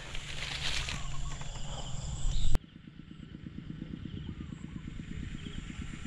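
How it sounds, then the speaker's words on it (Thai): A water pump engine set up at a fish-trapping spot clatters loudly while being started, then settles into a steady, rapid putt-putt idle at moderate distance. "เดี๋ยว ผมไปติดตั้งเครื่อง สูบน้ำก่อนครับ"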